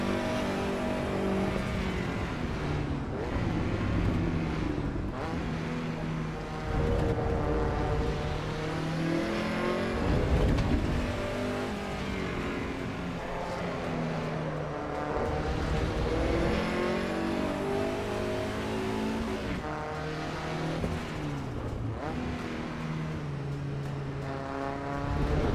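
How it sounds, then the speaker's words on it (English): Lancia Integrale engine in a driving simulator game, revving and straining continuously with rising and falling pitch through gear changes, loud and close throughout with no talk. "Yeah, here we are in the Lancia Integrale."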